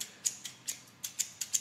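Claw shears from a contractor's tool bag snip and click open and shut about seven times in a steady rhythm, the crisp metallic creaks close and fairly quiet, with no talking.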